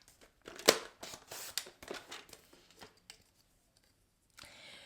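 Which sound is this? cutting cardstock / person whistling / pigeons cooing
cutting cardstock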